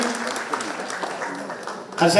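Applause from an audience at a felicitation ceremony, a steady dense patter of clapping running through the clip and swelling louder at the end.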